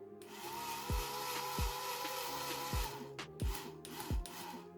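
Small DC motor of a robot car with a DRV8833 driver running counterclockwise, a faint steady whirring hum with regular soft knocking pulses under a rubbing, grinding texture, close and quiet.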